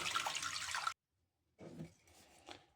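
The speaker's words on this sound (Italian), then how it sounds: "In una pentola verso dell'acqua," Water pours into a cooking pot in a kitchen in a quick, splashing burst. A brief silence follows, then a second, softer run of pouring and trickling.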